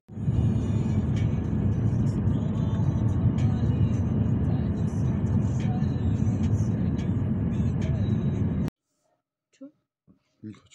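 Steady car interior rumble from a vehicle driving home, continuous road and engine noise for most of the clip, then it cuts to near silence with a few brief faint voices.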